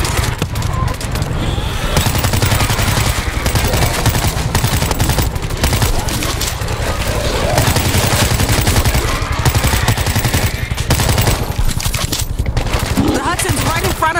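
Continuous rapid Uzi gunfire rattles in the zombie video game World War Z, loud dense bursts running the whole time, with game voices talking over the shooting.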